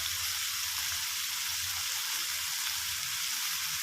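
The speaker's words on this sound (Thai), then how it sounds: "ผัดลงไปพร้อมกับหมูสามชั้นนะครับ" Pork belly stir-fried with red curry paste sizzles and crackles steadily in a hot pan, a dense, close frying hiss running throughout with no talking.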